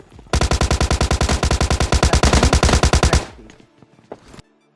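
Rapid automatic gunfire in a mobile shooter game, a loud continuous burst of about three seconds with evenly spaced shots, followed by a few scattered clicks and softer game sounds.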